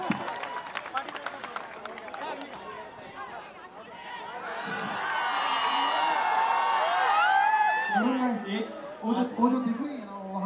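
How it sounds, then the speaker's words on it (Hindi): A crowd at a Dahi Handi celebration breaks into cheering and applause that swells and then fades, with chatter and people talking over it. "इनके लिए प्लीज जोर से तालियां"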